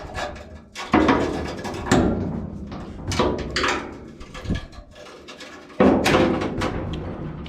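Several clunks and thuds as a rat rod truck's stuck cab door handle is pulled and the door rattles, repeated attempts with brief pauses, close and fairly loud.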